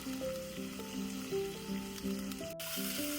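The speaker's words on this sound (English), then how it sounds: "Fry the onions until golden brown" Onions fry in a teaspoon of oil in a pot, a steady close sizzle running continuously beneath background music with a shifting melody, with no voices.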